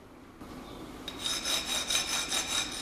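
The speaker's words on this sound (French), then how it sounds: "Pour cette pièce usinée, on utilise une lime à taille plus douce." A fine-cut hand file deburs a machined metal part held in the hand, producing steady, close rasping strokes in a regular back-and-forth rhythm that begin after a quiet moment. No talking.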